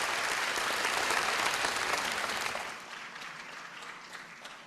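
An audience at an Independence Day event in Pakistan claps warmly, dense applause that holds strong for a few seconds, then thins and fades to scattered claps.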